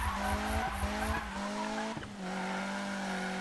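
A modified Mazda Miata in the Need for Speed 2015 racing game launches with its engine roaring through rising gear pulls and tires squealing under hard acceleration, loud and close, with no talk.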